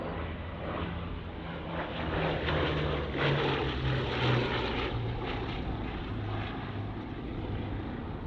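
A Bristol Blenheim twin-engine propeller bomber flies past at the Duxford Battle of Britain airshow, its engines giving a steady, loud droning roar with a slowly wavering pitch that swells and eases across the whole stretch.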